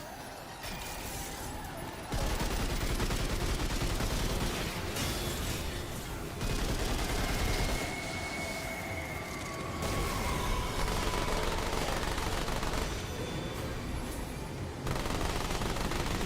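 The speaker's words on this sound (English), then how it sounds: "Dude, the SMG goes ham like this" Rapid, sustained bursts of MP60 submachine gun fire in the video game Remnant 2, loud and close, with brief lulls between long volleys and no talking.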